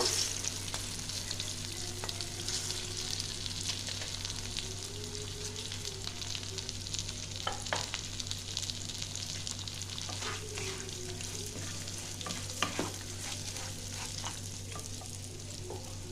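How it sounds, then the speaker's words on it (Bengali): Dried rice for Bengali Basanti pulao sizzles steadily in a pan with chillies and plumped raisins, with scraping stir strokes and a few sharper clinks over a constant frying hiss; no one speaks. "এবার দিয়ে দেবো শুকনো করা চালটা"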